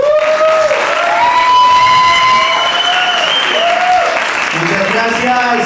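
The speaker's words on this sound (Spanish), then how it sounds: "gracias por esos aplausos" Loud, sustained audience applause fills a storytelling contest hall after a performance, with a voice carrying over the clapping.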